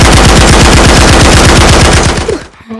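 Rapid, loud gunfire from a machine gun in the VR game Gorilla Tag, a steady stream of close shots for over two seconds before cutting off abruptly.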